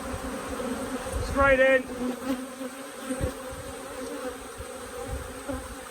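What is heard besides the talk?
honey bees buzzing while frames are shaken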